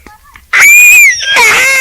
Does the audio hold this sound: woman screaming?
yes